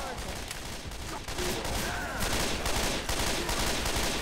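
Gunfire in the zombie shooter Left 4 Dead 2: dense, continuous bursts of rapid shots through the whole stretch, fairly loud and busy, with players' voices mixed in.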